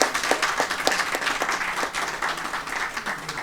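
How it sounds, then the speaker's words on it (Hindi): Audience applause at a women's forum event marking Savitribai Phule's birth anniversary: a dense, steady wash of many hands clapping, fairly close and sustained throughout, with no talk over it. "तो हम इनके लिए ज़ोरदार ताली बजाएं"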